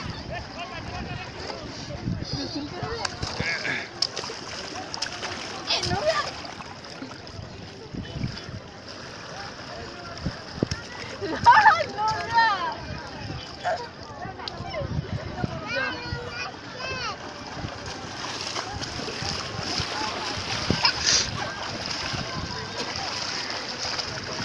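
Water splashing and churning as people dive and swim, continuous and fairly close, with children's voices and talk over it throughout.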